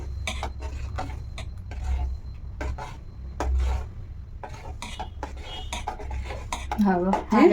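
A utensil scraping and clinking against a pot while milk with vinegar is stirred to make homemade paneer, irregular rubbing strokes over a low rumble, with a brief squeal near the end.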